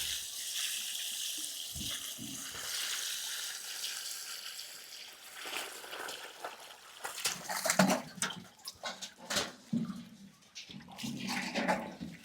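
Water drains from a fish pond in a steady rushing wash that later breaks into choppy splashing surges, with faint bird calls in the background.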